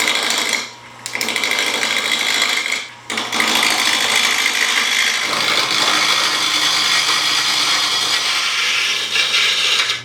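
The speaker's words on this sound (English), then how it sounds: "A high-speed steel roughing gouge that I just put a fresh edge on." A wood lathe roughing a hybrid handle blank of 3D-printed infill and epoxy resin with a freshly sharpened high-speed steel roughing gouge, making a loud, continuous close-up hiss and chatter of cutting, broken by two brief dips near the start.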